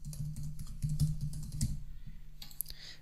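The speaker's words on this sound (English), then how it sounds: "So I am typing my Microsoft email address" Quiet, rapid keystrokes on a computer keyboard, a steady patter of light clicks with a short pause near the end.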